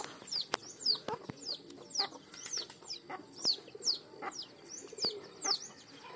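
Repeated short chirps from nine country chicks peep in a steady rhythm, with occasional soft clucks from the mother hen underneath, close by and outdoors.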